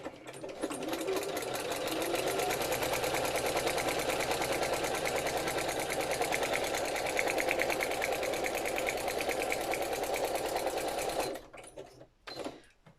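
A sewing machine runs steadily for about eleven seconds, stitching paper journal ephemera for a sunflower-themed journal, a loud continuous mechanical whir with fast needle rhythm, then stops abruptly, leaving a few faint handling clicks.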